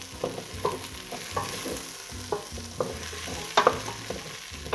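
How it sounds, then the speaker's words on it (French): Garlic, thyme and salt sauté in a hot pan for a Réunion-style potato zembrocal, with a steady sizzle and repeated clinks and scrapes of a spoon stirring, close and clear with no talking. "Nous rajoutons le mélange ail, thym et sel. Et pareil, nous fait revenir 2 à 3 minutes."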